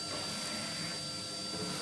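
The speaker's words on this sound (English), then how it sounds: "Just hoover all this bits up." Vacuum cleaner hoovering up ash from a Mendip Churchill 5 convection wood burning stove, giving a steady, close motor whine and airy suction hiss.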